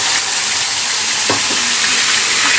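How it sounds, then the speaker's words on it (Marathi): Ginger-garlic paste sizzles loudly in hot oil with mustard seeds and cumin, a steady close hiss with a few soft stirring knocks. "जिरं आणि मोहरी घातल्यानंतर आपल्याला अद्रक लसूणची पेस्ट टाकायची आहे"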